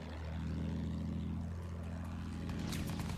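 A propeller plane's engine drones steadily and loudly in the World War I shooter Battlefield 1 on the St Quentin Scar map, with faint in-game clatter near the end and no speech.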